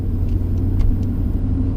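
A 2000 Mercedes-Benz S500 engine gives a steady low rumble while driving, continuous and fairly close with a few faint higher ticks over the top.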